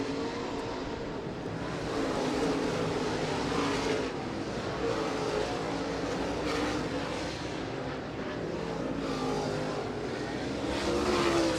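Late model race cars at I-96 Speedway roaring into turn 1 during a feature event, a continuous loud engine drone with rising and falling revs as several cars pass.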